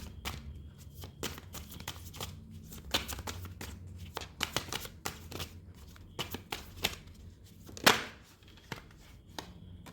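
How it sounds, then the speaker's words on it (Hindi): Tarot cards are shuffled by hand in a quiet room, a close, soft series of riffling and tapping bursts with a sharper flurry partway through and no talking. "मैं दोबारा से शफल करती हूँ"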